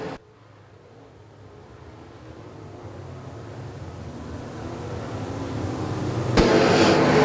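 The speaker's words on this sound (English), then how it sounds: "Michael Long getting it cranked up around the top of the speedway, works around Pratt through turns three and four" Modified race cars circle the Quincy Raceways speedway, their engine roar swelling steadily from distant to close over several seconds before jumping louder near the end.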